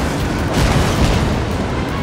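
Warship secondary guns fire amid explosions in the naval battle game World of Warships, a loud, dense, continuous rumble of booms with no distinct gaps and no talk.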